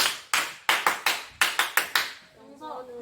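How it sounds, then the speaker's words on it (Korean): Students in an elementary PE class clap in praise, a series of about ten sharp, separate claps in uneven bursts, close and crisp, fading out as a voice begins speaking at the end. "칭찬의 박수를"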